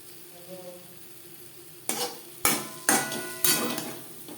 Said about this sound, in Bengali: ভেন্ডি হালকা করে ভেজে নেব তিন চার মিনিট